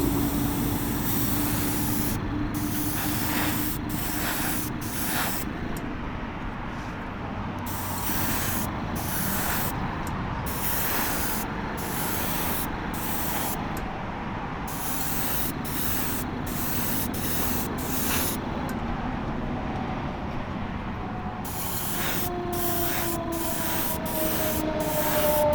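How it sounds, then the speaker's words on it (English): An aerosol can sprays a third coat of paint onto a Jada toy truck in a close, loud hiss. The spray runs in long continuous bursts broken by brief pauses where the nozzle is released, and no one speaks. "let's hit it with the third coat and see how it looks"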